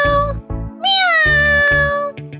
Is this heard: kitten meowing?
yes